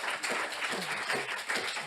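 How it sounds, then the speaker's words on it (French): Cinema audience applause at a film evening, a dense, continuous patter of many hands clapping at once, loud and close throughout. "on les applaudit bien fort"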